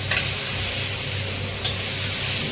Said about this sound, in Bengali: তারপরে আলু বেগুনগুলো ভাজলাম।